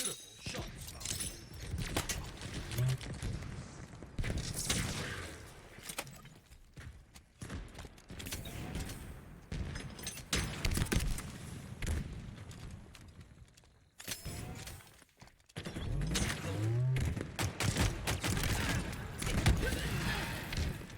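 Gunfire and impacts from a Big Team Battle match in Halo Infinite, including sniper rifle shots, come as dense, sharp bursts and clatter throughout, mixed with other game effects and voice.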